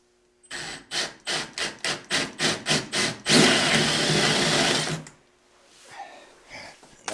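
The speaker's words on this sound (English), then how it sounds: "I'm going to drill it." Holes for eyelets are drilled into a wooden ice fishing sled: a series of rapid rhythmic drill pulses, then a sustained loud bite through the wood, ending abruptly with a few faint handling noises.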